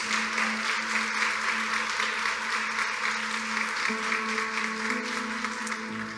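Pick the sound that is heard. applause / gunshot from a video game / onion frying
applause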